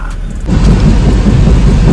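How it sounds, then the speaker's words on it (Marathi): Heavy rain pours down in Satara with a deep rumble of thunder, a loud, dense wash of noise that swells after a brief quieter start and holds steady to the end. "पावसानं इथं पण घातलाय धुमाकूळ, लय दचक्या पाऊस पडतोय राव"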